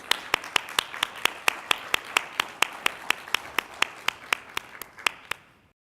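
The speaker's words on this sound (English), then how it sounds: "let's give them a big round of applause" Audience applause after a stage introduction at a hosted talk event: a single steady, sharp handclap rhythm repeats about four times per second, fairly close, then stops abruptly.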